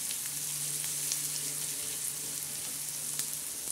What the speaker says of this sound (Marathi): आता हा कांदा चांगला परततोय आपला